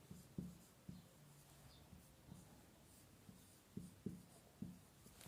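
Marker or chalk strokes on a board during a chemistry lesson on SN1 nucleophilic substitution, a quiet scatter of short taps and scrapes spread unevenly across a hushed room, with no talk.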